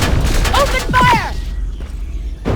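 Bursts of gunfire in a Terminator Resistance cutscene, loud rapid shots and booms clustered over the first second and a half, with sharp whistling tones mixed in, then a quieter tail and one more hit at the end.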